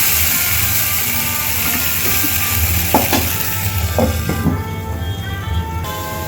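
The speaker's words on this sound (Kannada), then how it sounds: "ಸ್ವಲ್ಪ ಹತ್ಕೊಳ್ಳುತ್ತಾ ನೀಟಾಗಿ ಹಿಂಗೆ ತಿರ್ಗಿಸ್ಕೊತಿರ್ಬೇಕು ನೋಡಿ ಚೆನ್ನಾಗಿ ಫ್ರೈ ಆಗಿದೆ ಈ ಥರನೇ ಫ್ರೈ ಮಾಡೋಣ" Potatoes frying in a pan, a dense close sizzle broken by several clattering scrapes and knocks as a spoon stirs and turns them. Loud throughout, with no talking.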